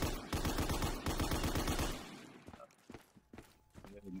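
An MG-81 machine gun fires a rapid, loud, sustained burst for about two seconds in a Black Ops 3 Zombies custom map. Scattered thuds and footstep-like knocks follow.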